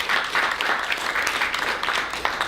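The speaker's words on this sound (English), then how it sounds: "let's give him a big round of applause" A panel audience gives a big round of applause, continuous dense clapping heard close and steady for the whole stretch.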